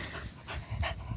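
A dog pants in short, rapid, breathy bursts close by, several rhythmic puffs in a brief stretch with no talking over it.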